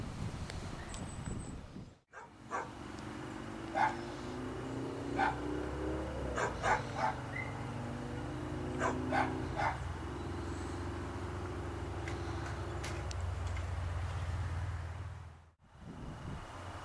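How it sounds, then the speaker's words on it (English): Several Scottish terriers run and bark outdoors at a Christmas gathering in Marvin, North Carolina, with scattered short yaps and barks over a steady low outdoor rumble, plus a few brief gaps. "We got a bunch of dogs out here running."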